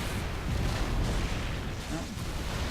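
Rumbling explosion from the video game Metroid: Other M, a dense, steady low roar with booming texture that fills the whole moment without clear separate blasts.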